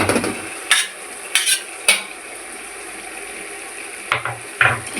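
Chicken pieces go into frying masala for a chicken biryani and get stirred, with a steady sizzle under several sharp scraping and clanking strokes of a spoon against the pan, close and fairly loud, no voices.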